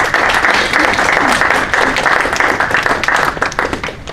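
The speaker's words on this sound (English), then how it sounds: "So they already clapped, it's fantastic." Conference audience applauding in Sydney, dense loud clapping sustained throughout, steady and close, with no voices over it.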